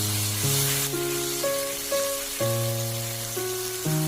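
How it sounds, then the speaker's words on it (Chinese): Lettuce sizzles steadily as it is stir-fried with soy sauce, salt, pepper and oyster sauce, a continuous close hiss with a clear stepped tone ringing over it throughout. "然后翻炒均匀"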